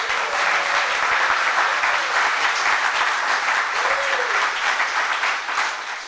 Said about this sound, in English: Let's hear a show of applause